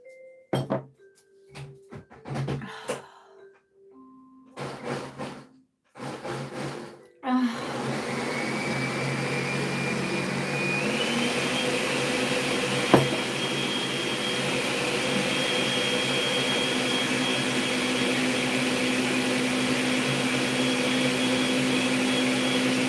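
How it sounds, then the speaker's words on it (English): After some brief clinks and shuffling, a loud whirring blender motor kicks in and runs steadily, shifting pitch once as it keeps going. "Y'all heard the blender going."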